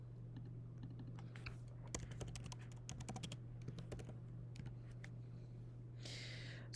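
Typing on a computer keyboard: soft, irregular key clicks in short bursts, heard close against a low steady hum.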